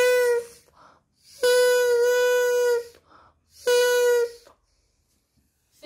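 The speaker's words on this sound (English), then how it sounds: "You can see that the flap vibrates to make the sound like this." A student-made paper toy buzzes as air is blown through it and its flap vibrates, giving three loud reedy honks separated by short breaths, close to the listener.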